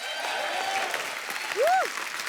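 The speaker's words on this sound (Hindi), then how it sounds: "एक बार जोरदार ताली हो जाए" Studio audience applause on The Kapil Sharma Show comedy set forms a steady wash of clapping. A swooping, rising-and-falling tone sweeps through near the end.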